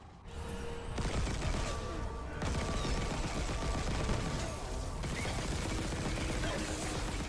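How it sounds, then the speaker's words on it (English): A fully upgraded pulse rifle fires in a video game remake, a continuous, dense volley of mechanical-sounding shots with brief shifts in intensity, steady and loud throughout. "Now, here's the fully upgraded version in the remake."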